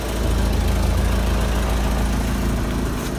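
A 1985 Toyota pickup's 22R engine idles steadily while warming up, a close, constant low rumble with even vibration and no talking.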